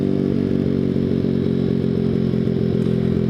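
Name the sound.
Grom clone motorcycle with ZS190 motor riding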